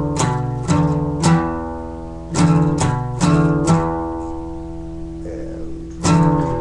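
A guitar plays a Devil Slide riff, picked notes in a choppy rhythm with sliding pitch moves between them, up close and alone.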